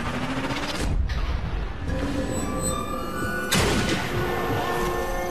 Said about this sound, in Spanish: A ver cuántos disparos le tengo que dar ahí para que reviente